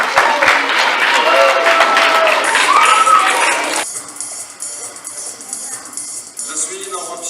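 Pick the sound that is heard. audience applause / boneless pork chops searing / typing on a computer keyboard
audience applause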